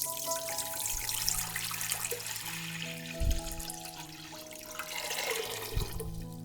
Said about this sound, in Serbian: U šerpu sipam 2 litre vode.